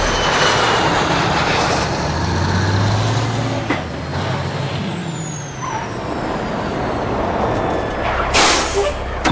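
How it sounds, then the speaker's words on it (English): Airplane engine in GTA Online during a landing approach, a loud continuous roaring drone with rumbling low end and a rising whine, steady throughout. "Of course I can land the plane."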